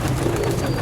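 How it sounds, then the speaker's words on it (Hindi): A single soft, low pigeon coo, close and brief, over faint background noise. "फड़ना कक्का कबूतर"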